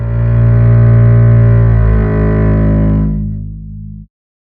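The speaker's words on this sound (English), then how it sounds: "So we have a cello that sounds like this." Bowed cello playing a sustained low note, dry and unprocessed, rich and steady for about four seconds before stopping abruptly.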